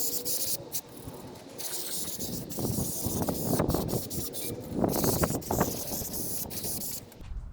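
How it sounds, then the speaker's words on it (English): An aerosol can sprays adhesive onto a 2005 Toyota Corolla valve cover gasket in a few soft hissing bursts, fairly faint against quiet workshop background noise. "So I'm going to be spraying some adhesive right on the valve cover."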